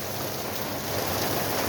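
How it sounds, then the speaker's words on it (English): Heavy rain pours down steadily at a street accident scene where Boston police are responding, a dense, even hiss with no breaks and no voices. "I think I give you guys a little image of how much rain is coming down."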